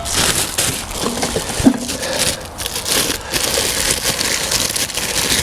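Outbacker Firebox stove parts being unwrapped on a ground sheet, with steady crinkling and rustling of wrapping throughout and a sharper crunch partway through, close and fairly loud with no talking.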